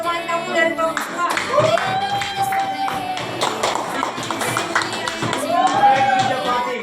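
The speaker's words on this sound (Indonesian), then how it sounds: "jadi kita kasih aplaus dulu buat teman kamu dari kelompok" A classroom of students gives a student group a round of applause, brisk scattered clapping of fairly close hands with a melody playing over it, lasting several seconds.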